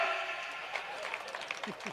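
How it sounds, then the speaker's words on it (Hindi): Audience clapping at a live Hindi comedy show, a scattered, moderate round of applause from a crowd heard over an ongoing hall ambience. "ताली बजाओ।"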